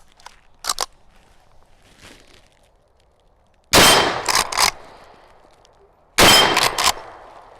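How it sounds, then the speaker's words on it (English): Two volleys of loud gunshots strike metal targets downrange, each a burst of sharp cracks with ringing impacts, separated by quieter pauses with a few faint earlier pops. "Got some more rounds in here. Let's shoot it on the metal targets down there."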